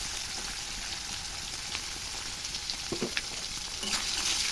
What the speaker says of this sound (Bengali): শুকো মাছটা ভালো করে ভাজা হয়ে গেছে বন্ধুরা